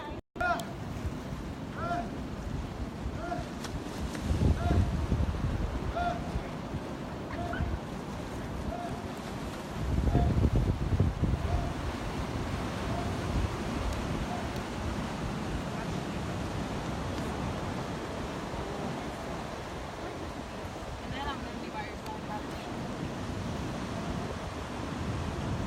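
Ocean waves break on the shore in a continuous rushing wash that swells into louder surges a few times, heavily mixed with gusty wind buffeting the microphone outdoors.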